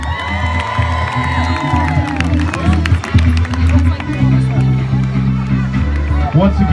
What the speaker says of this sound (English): Another round of applause for Brandon Drury.